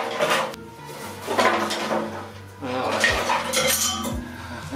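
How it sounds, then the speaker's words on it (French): Metal bolts are pulled out of a Renault 4L, giving sharp metallic clinks and rattles in irregular bursts at close range, with a voice occasionally heard. "Le rigolo maintenant, c'est de sortir tous les boulons."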